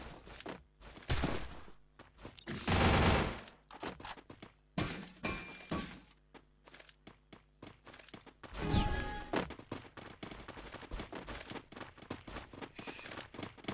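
Gunfire from a Desert Eagle in a shooter video game, loud close shots and crashing bursts at irregular intervals, mixed with rapid clattering impacts throughout, with no talk.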